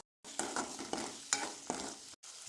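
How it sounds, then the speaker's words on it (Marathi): Onions, peas and tomatoes sauté in a pan for noodles, with a soft sizzle broken by several distinct scraping stirs and a brief pause near the end. "आता परतून घ्यायचा।"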